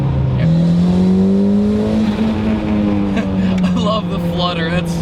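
Turbo flutter from a mid-engined Toyota MR2 Turbo on track, with a loud, steady engine drone throughout and chirpy fluttering bursts near the end, while people talk over it.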